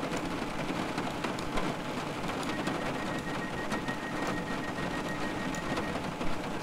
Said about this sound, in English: Still pouring down with rain.